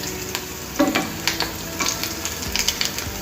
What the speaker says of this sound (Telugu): మీడియం ఫ్లేమ్ మీద ఉంచి ఒక 2-3 నిమిషాలు మనం వీటిని వేయించుకోవాలి.